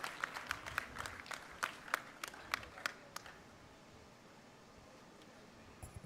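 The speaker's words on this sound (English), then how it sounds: "you can energize them by clapping" An audience at an evening plenary session claps in sparse, distinct strokes for about three seconds, then fades to quiet room noise with a single faint clap near the end.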